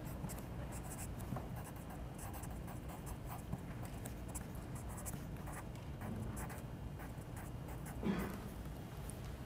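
Chalk writes steadily on a board in a lecture hall, a continuous close scratching and tapping with a brief louder knock near the end and no talking.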